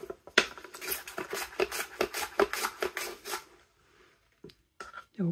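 A knife slices a red onion on a board, giving a quick run of crisp, close cuts in an uneven rhythm, then a pause and a few last strokes.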